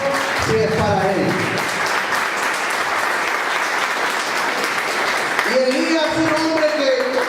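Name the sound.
congregation applause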